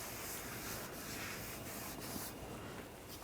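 A rag wipes a Ford Escape rear brake rotor on a 2013–2019 model, making a steady soft rubbing swish that continues for a few seconds, faint but close, with no talking.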